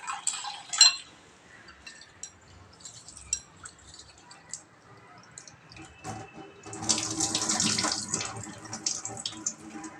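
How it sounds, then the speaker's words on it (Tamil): Rice rinsed under running tap water in a sink while making rice batter for kolam: a short splashing burst, then quieter trickling with occasional clinks of the vessel, and a louder, steady gush of running water near the end. "ஒரு மூணு தடவை நல்லா அதை வாஷ் பண்ணி எடுத்துக்கலாம்"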